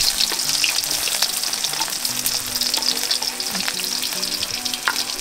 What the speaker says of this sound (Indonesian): Tumis kangkung. Bawang putih, bawang merah, tomat.